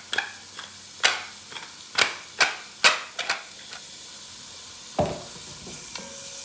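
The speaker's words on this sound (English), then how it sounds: "we just added half of the kale, and we're going to let it cook down" Kale cooking down in a pot of bean soup, with a series of sharp spoon knocks and stirring clatters against the pot over a faint background simmer.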